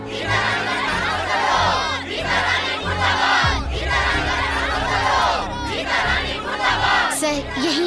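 A large crowd shouts slogans in unison against a school principal, rhythmic massed chanting that rises and falls in loud waves, with individual voices and cries mixed into the din.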